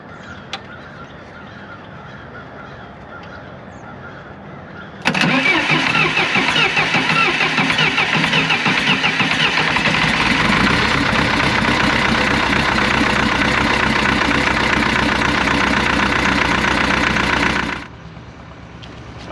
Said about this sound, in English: Never fails to start, but you really have to cycle the glow plugs quite a bit in the wintertime.